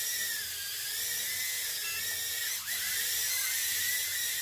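Motors of an X-Drone Cyclone quadcopter during flips make a high, continuous whine, steady and fairly faint, with a short sharp pitch dip partway through as the drone flips.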